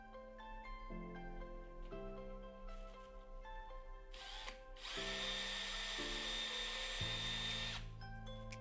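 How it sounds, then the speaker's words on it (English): A power drill bores through a tricycle pole and into its metal frame, with steady high whirring that shifts pitch in stepped bursts and turns harsher and louder as the bit bites, close and without talk. "we'll drill through the rest of this pole and then into the frame"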